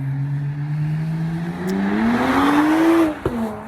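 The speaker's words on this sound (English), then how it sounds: "Someone had a really loud car." A loud car engine drones, then revs higher as it passes close by outdoors, rising steadily in pitch before dropping away, with a faint clatter near the end.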